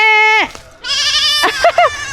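A goat bleats loudly up close, a long wavering cry followed by shorter bleats, with a quick higher call near the end.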